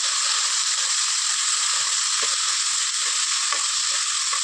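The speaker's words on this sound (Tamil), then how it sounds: "இப்போ வந்து வெங்காயம், புதினா தலை போட்டலாம். போட்டு நல்லா ஒரு வணக்கி விட்டுக்கலாங்க." Sliced onion and mint leaves fry in a pan for Tamil-style tomato rice, giving a steady, close hiss of sizzling oil with occasional soft stirring scrapes and pops throughout.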